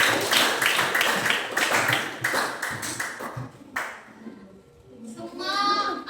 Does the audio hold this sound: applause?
yes